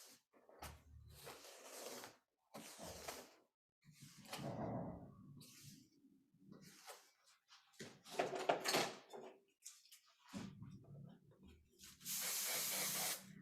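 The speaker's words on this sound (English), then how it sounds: "So I'm just going through and spraying it." Hairspray hisses onto freshly curled, wand-styled hair in short bursts, with one long, strong spray near the end, between stretches of nearby talking and handling noise.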